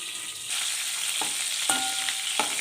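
Eggplant sizzles and crackles steadily in hot oil close up, with a few soft clinks from stirring.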